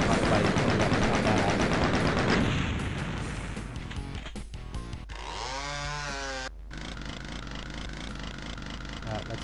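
Buzzing, revving chainsaw in a video game, loud and raspy over heavy bursts of gunfire-like game noise, with brief drops and a warbling tonal effect midway before the harsh buzz returns.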